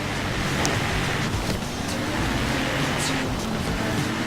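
Ford Raptor truck on snow tires driving in the Forza Horizon 3 snowy mountain race, a steady broadband engine and road rumble with wind-like noise, continuous and fairly loud.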